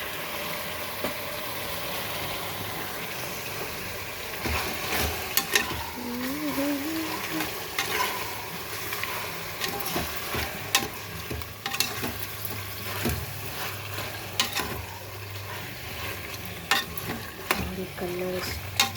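Marinated chicken tipped into a pressure cooker for chicken biryani, with steady close sizzling and frying plus repeated stirring and scraping over a continuous low hum, no speech.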